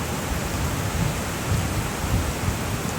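Steady rain hisses across the whole clip with a low rumble of thunder underneath during an outdoor thunderstorm where horses are being trained; no voices.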